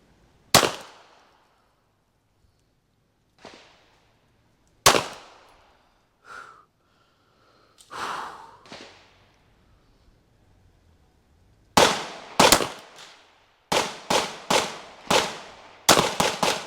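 An LFA Apollo 11 pistol is fired at a target 20 yards away: a few spaced, sharp, loud outdoor shots, then a rapid string of about eight reports in quick succession, with faint metallic knocks between them.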